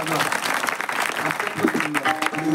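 A village kirtan audience claps for the visiting maharaj, a close, scattered burst of hand claps overlapping with a voice talking.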